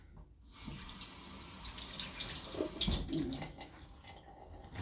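A steady stream of tap water runs into a sink as something is rinsed under it, with splashing changes as the object moves through the flow, close and fairly quiet.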